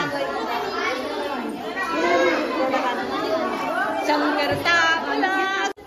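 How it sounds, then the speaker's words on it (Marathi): A dense crowd chatters at a Gauri arrival festival in Konkan, with many overlapping adult and children's voices filling a busy, lively space close to the listener. "काय गर्दी झाली"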